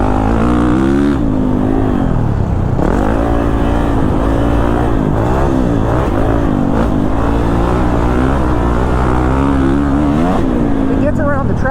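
A Kawasaki KX450 dirt bike rides around a motocross track, its loud engine droning and rising and falling continuously as the rider works the throttle, close and up front the whole time.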